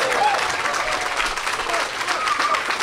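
Audience applause and crowd noise greet a heat semi-finalist robot at a live robot-fighting competition, a steady wash of clapping throughout with faint cheering and some voices mixed in.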